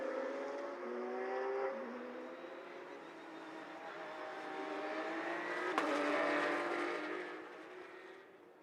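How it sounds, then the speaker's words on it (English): Porsche Carrera Cup race cars rolling slowly behind the safety car at Circuit Zolder, engines droning steadily with harmonic tones, a brief sharp crack near the middle, the pack swelling louder as it passes close. "car's being led around here by the safety car driver"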